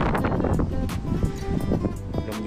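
Wind blowing across a hilltop viewpoint overlooking Pattaya, behind a large Buddha statue, giving a steady broadband rush with gusty buffeting on the microphone throughout.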